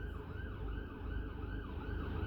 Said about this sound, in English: Oh, it's an ambulance, actually.